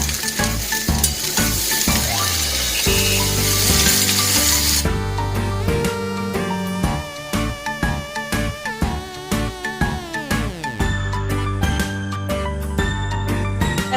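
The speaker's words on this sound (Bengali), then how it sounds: "লঙ্কাগুলো পুরো ভাজা হয়ে গেছে, এরকম করে লঙ্কাটাকে ভেজে নিতে হবে।" Green chillies fry in hot oil with a loud, steady sizzle that is strongest in the first few seconds, while tonal music plays over it throughout.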